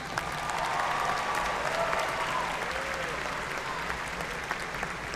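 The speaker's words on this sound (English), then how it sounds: "Let's give them a big round of applause." A commencement audience applauds the band in a large hall, with sustained, fairly distant clapping that holds steady throughout and faint voices mixed in.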